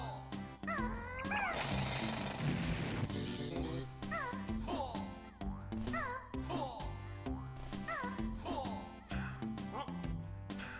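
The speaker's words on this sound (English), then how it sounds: "Basically, Kazooie becomes a drill. Like that. Well, it's more jackhammer than anything." Kazooie's drill attack in Banjo-Tooie rattles in rapid jackhammer-like bursts, repeated several times amid cartoonish squawking game sounds and music, fairly loud and close.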